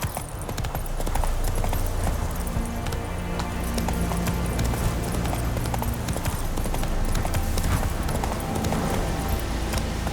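A horse galloping in the video game The Witcher 3: Wild Hunt, its hooves drumming in a fast continuous rhythm, dense and loud over a busy wash of game noise for the whole stretch.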